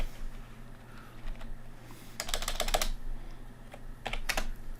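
Bursts of computer keyboard typing, quick clustered key clicks coming in two short runs, close and fairly clear against a low steady hum.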